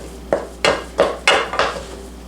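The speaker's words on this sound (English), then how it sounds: "I'm going to stir with my wooden spurtle" A wooden spurtle stirs choux pastry dough in a pan, sounding as five evenly spaced, close, firm knocking scrapes against the pan.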